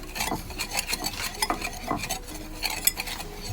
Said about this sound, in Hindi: इन सब चीज़ों को डाल के हमने अच्छी तरह मिक्स करना है